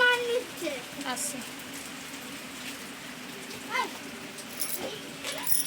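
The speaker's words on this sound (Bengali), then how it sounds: "দেখেছো আমাদের টিনেতে জল পড়ছে বোঝা যাচ্ছে বৃষ্টি পড়ছে" Light drizzle patters steadily on a tin roof, a soft continuous hiss of drops with scattered louder taps, while a dog whimpers briefly and other faint sounds come and go in the background.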